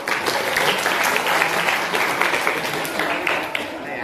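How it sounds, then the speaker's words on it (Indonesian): An audience claps steadily for a student who has just finished at the front of a room, with dense, continuous applause that holds at an even level for several seconds and fades slightly at the end. "Terima kasih, tepuk tangan untuk Mbak Sania."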